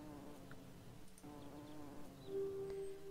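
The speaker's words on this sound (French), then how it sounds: "Alors, il faut aller avec l'abeille" A bee buzzes in the video game Rusty Lake Roots, a faint, quiet hum with a steady tone rising slightly toward the end.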